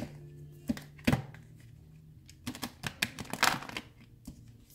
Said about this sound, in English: I've already shuffled these, but I'll do it a couple more times